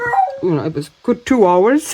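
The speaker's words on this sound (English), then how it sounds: "Sorry about my dog, who is screaming in the background" A pet dog whines and howls close by in a home, with rising and falling cries that come and go as someone talks over them.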